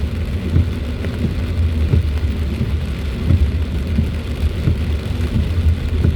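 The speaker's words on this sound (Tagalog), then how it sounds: "May kasamang kulog pa at kidlat." Heavy rain from a typhoon drums steadily on a car driving through the storm, a dense continuous wash with low rumbles of thunder rolling underneath and no voices.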